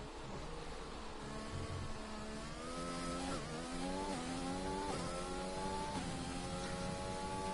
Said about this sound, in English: Quite a few cars coming out on track.